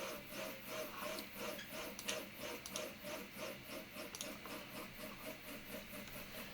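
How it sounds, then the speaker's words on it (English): A printer runs with a steady, rhythmic mechanical rasp, repeating strokes about three per second with a grinding, rubbing texture, fairly loud and close. "Wanted you all to hear my printer."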